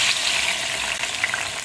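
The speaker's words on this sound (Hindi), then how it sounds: "और इसके बाद में इसमें टमाटर फ्राई करूँगी जी" Chopped tomatoes frying in ghee with chicken and bitter gourd, a loud, steady close-up sizzle with a few brief crackles and no talk throughout.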